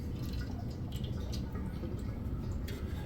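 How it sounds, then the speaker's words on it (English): Old oil dripping from a removed, cracked car oil pan, scattered soft drips and spatters over a low steady background rumble, close and faint. "you get oil dripping on everything for quite a period of time"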